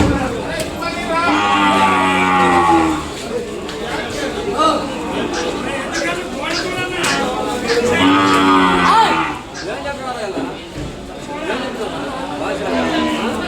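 An Ongole calf lows at the Kodad cattle market, two drawn-out moos a few seconds apart, near and loud, over a murmur of crowd chatter and someone talking.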